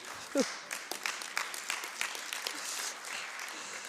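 An audience applauds, a soft, distant patter of many hands clapping that carries on steadily and then tapers off.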